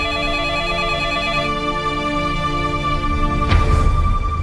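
An unanswered telephone keeps ringing with a steady electronic tone, then a brief click and rustle come near the end.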